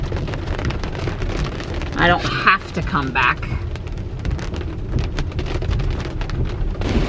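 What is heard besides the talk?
rain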